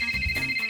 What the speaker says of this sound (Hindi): मोबाइल है, डोरबेल नहीं जो बजाया जा रहा है